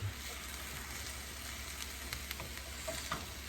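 Red amaranth and helencha greens fry in a pan with a steady, continuous sizzle and faint crackles, heard close and alone at low volume with a low background hum.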